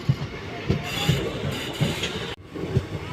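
Passenger train on the Dhola to Veraval line in Gujarat, heard from on board: a steady rolling rumble with regular wheel clacks over rail joints, a brief dropout midway, continuous and moderately loud.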